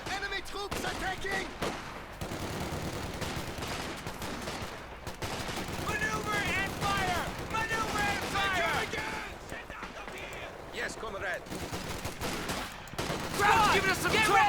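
LMG fire rattles through a Company of Heroes 2 battle, with repeated bursts of machine-gun and mixed gunfire at moderate distance, continuing under excited commentary voices.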